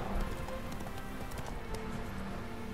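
Horse galloping in the video game Witcher 3, a steady rapid clip-clop of hooves running without pause over a continuous background, with no talk.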